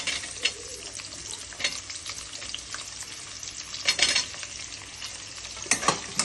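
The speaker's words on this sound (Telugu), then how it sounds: "ఇలా కొద్దిగా గోధుమ రంగు వచ్చాక దాంట్లో ఆనియన్ వేసుకోవాలండి" Onion dropped into hot tempering oil with urad dal, sizzling and frying steadily close by, with brief louder crackling bursts and stirring noises, no talking.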